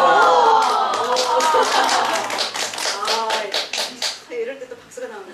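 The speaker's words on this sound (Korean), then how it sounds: "이럴 때 또 박수가 나오는구나" An audience at a North Korean defector sports event and talent show bursts into loud, dense clapping, sustained at first and then thinning into scattered claps as a voice starts talking over it.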